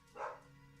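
Dogs named Largo and Domino bark at home, a single short, moderately loud bark rising out of quiet room noise and fading quickly, with only a low hum after it.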